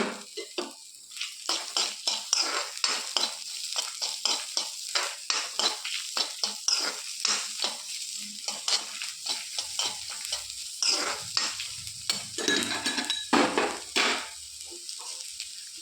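A chopped onion goes into a pan with softened garlic and green chili, giving a steady sizzle broken by repeated scraping strokes of a spoon against the pan at close range, with no voices.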